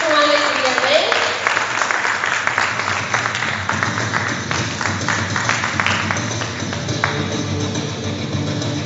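A church congregation claps in a spread of sharp, uneven hand claps that slowly thin out, while a voice talks over the applause.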